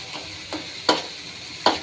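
Food being stirred in a pan with green chili added, with a few distinct scraping strokes spaced about a second apart over a soft, steady sizzle.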